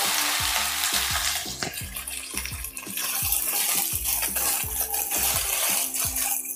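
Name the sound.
okra frying in hot oil with cumin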